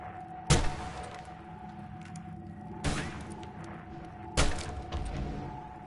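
Mortar fire in Assassin's Creed Chronicles: India: three heavy broadband blasts spaced about two seconds apart, each a sharp crack with a short rumbling tail, over a steady low ambient hum.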